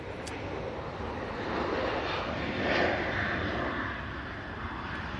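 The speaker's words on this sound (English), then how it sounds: "just noticed that the Etihad is now taxiing" An Etihad airliner taxiing at Manchester Airport gives a steady, moderately distant jet engine roar that swells gently midway and then eases, with no talk over it.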